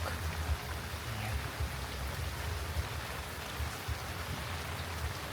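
Continuous rain pours down in Hoi An, Vietnam, a steady rushing patter with a low rumbling undertone and no voices.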